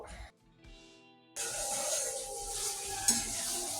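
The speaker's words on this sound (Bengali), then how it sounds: "এখানে আমি ডিমের ঝোল রান্না করছি" Egg curry cooking in a pan, a quiet start with faint clinks and tones, then a sudden steady sizzling hiss that carries on, with a brief louder scrape near the end.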